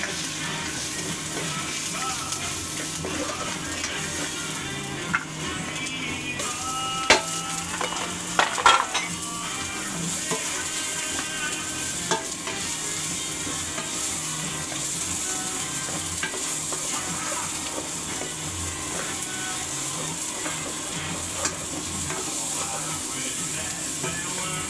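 Garlic sautés in a hot pan in a home kitchen, a steady close sizzle with a few scraping stirs and utensil clanks near the middle.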